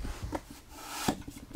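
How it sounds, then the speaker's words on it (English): A drywall taping knife is scraped clean of joint compound while taping an inside corner of sheetrock, giving short close rasping strokes with a few sharper scrapes, heard alone. "I'm gonna just clean that knife"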